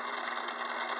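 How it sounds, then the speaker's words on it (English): A homemade gear cutter jig on a Craftsman 6-inch lathe cuts change gear teeth from a gear blank, producing a steady, even mechanical whir that runs unbroken at moderate level. "the cutter, which is underneath, does the work of cutting the material out from in between the teeth."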